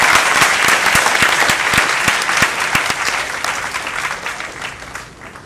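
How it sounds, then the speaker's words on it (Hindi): Loud, dense applause from a theatre audience after a Hindi stage play, many hands clapping together close by, holding steady and then easing off slightly toward the end. "जोरदार तालियां"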